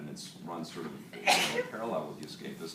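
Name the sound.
sneeze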